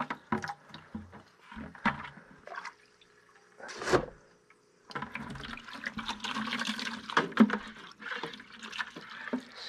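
Water trickles and splashes from an aquarium siphon tube into a bucket while a 10-gallon freshwater tank is cleaned, with intermittent gurgling bursts and handling noises close by.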